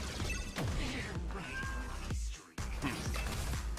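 A cat meows repeatedly in the turn-based game Honkai Star Rail, several sliding cries rising and falling over loud, dense game music and effects, with a brief dropout partway through.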